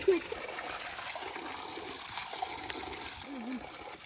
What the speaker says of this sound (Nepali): यहाँ चाहिँ हाम्रो राई धालाको एकदम असली चिसो पानी हो